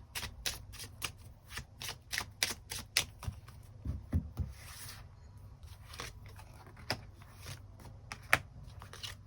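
Tarot cards shuffled close up, a rapid run of crisp flicking riffles and soft slaps, loud and dry, pausing briefly midway before the quick shuffling resumes, with no voice.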